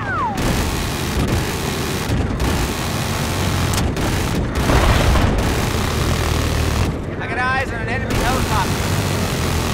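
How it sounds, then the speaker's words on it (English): Enemy helicopter in a Halo-themed shooter game: a continuous loud rotor and engine roar filling the whole scene, broken by brief gaps and chirpy game effects, with a player talking over it. "Enemy helicopter spotted."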